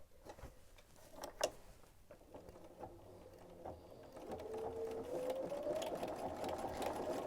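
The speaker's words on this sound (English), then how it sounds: "I'll keep sewing along the edge of my applique, watching the edge of my foot." A sewing machine stitching along the edge of a fabric appliqué on a laser-cut kit pillow: a soft rhythmic whir that steadies into a continuous hum, quiet and close, with no talk.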